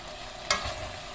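Food being stirred in a frying pan (a Filipino dish with boiled beef shank) gives a steady sizzle, with one sharp scrape or clatter of the spoon about halfway through, then a quieter fry.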